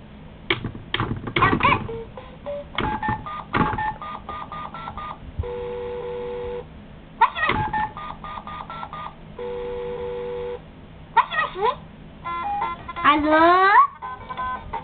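A child presses telephone keypad buttons, producing repeated DTMF dialing tones in short bursts and longer held beeps, with a small voice and adult chatter around the tones.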